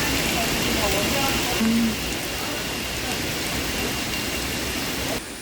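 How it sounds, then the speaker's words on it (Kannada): Heavy rain falls near Ermaye waterfalls in Karnataka, a dense, steady hiss of downpour that fills the whole scene, with a brief low tone near the middle. "ಮಳೆ ಹೆವಿ ಉಂಟು"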